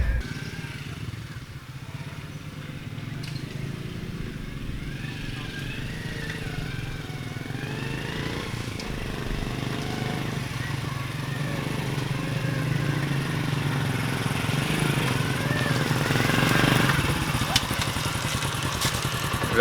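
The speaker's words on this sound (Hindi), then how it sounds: "तो ऐसे जंगल में से गुजार के बाइक निकालना पड़ी है।" A motorbike rides along a rough forest track after heavy rains, its engine a continuous mid-pitched drone with rattling and clatter, swelling slightly louder toward the end.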